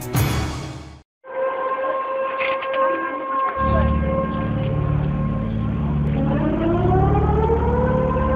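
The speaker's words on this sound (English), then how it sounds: "These are the sounds of a tsunami warning." Tsunami warning sirens in Alaska wail with sustained steady tones after a brief burst of noise and a short gap, later rising in pitch, loud and continuous over a low rumbling background.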